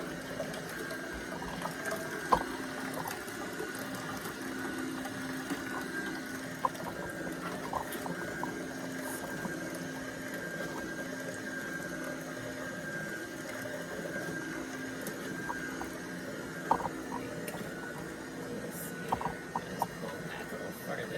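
A Nama J2 juicer runs while juice fills its container: a steady, moderately quiet motor drone with a continuous liquid trickle and occasional small clicks throughout.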